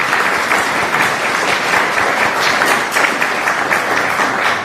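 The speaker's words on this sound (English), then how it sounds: "Maybe a brief round of applause for Prime Minister" Sustained applause from a conference audience at a government energy security event follows a prime minister's address, a dense steady clapping from many hands, loud and unbroken throughout.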